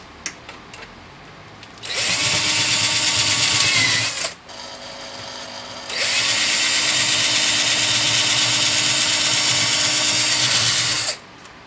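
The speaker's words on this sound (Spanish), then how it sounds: "El remache se engancha en la broca, gira y no se corta." A power drill whines loudly and steadily while boring out a rivet on a guitar radio amplifier, in two long sustained runs separated by a brief pause.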